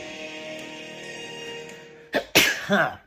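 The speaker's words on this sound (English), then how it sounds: "I freaking sneezed" A single person's sneeze bursts out close and loud near the end, in two or three sharp gasping blasts, following a quiet stretch of steady background hum.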